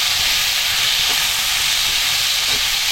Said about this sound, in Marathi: आणि नंतर बारीक चिरलेला कांदा। आणि कांदा आपल्याला सुरुवातीला थोडा नरम करून घ्यायचा आहे।